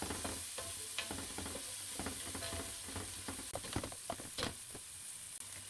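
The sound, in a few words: spoonful of garlic sizzling in a pan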